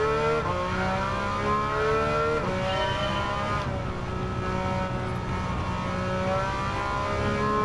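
Porsche 911 on soft tires driving in Gran Turismo 7, a steady engine drone with rising and falling harmonic pitch through gear changes, loud and continuous with no speech.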